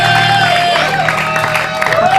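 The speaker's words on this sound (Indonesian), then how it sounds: "Tepuk tangan dulu dong buat Fatin." A studio audience on an Indonesian talk show applauds and cheers for Fatin, a dense, loud wash of clapping with a few shouts throughout.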